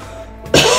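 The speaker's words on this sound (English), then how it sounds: "When I want to record, I start coughing" One short, sharp cough, close and loud, coming after a moment of quiet room noise.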